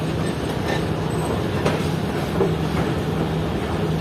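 The Fareed Express passenger train rumbles steadily out of Lahore at dawn, a continuous close rolling drone with faint rhythmic wheel clicks and occasional light squeals over the rails.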